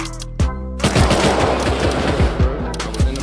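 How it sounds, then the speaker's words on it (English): Dense gunfire in the survival game Rust on console, a sustained fusillade of overlapping rapid shots with loud individual cracks, close and continuous. "I can't hear you because of all the shots"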